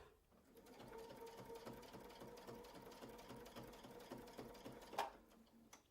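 A sewing machine stitches a 4-inch quilting circle around a template, giving a steady close mechanical hum with fast, even needle ticking and a brief louder knock near the end.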